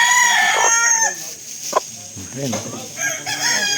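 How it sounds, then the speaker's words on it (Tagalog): Large chicken crowing close by in a mountain setting, with repeated crows and clucks over a steady high insect-like drone, and someone speaking briefly between calls. "Ang laki po ng manok."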